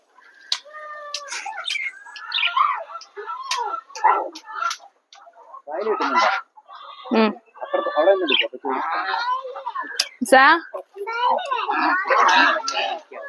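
Chickens cluck and squawk in bursts close by, several birds calling over one another with brief pauses between outbursts.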